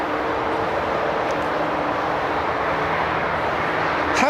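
A Kalitta Air Boeing 777 at a cold, snowy Toronto airport (YYZ) gives a steady, loud, broadband jet engine roar that holds constant throughout, with no talking.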